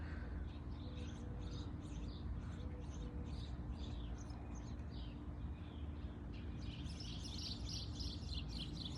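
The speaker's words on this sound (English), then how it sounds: "there's two birds fighting each other." Two birds fighting each other give repeated faint chirps and calls, clustered in quick bursts over a low steady background rumble.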